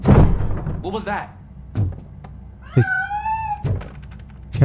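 A cat meows twice in the video game RoboCop: Rogue City, a short muffled call followed by a long, clear, rising-then-falling meow, among a few dull thuds and faint talk.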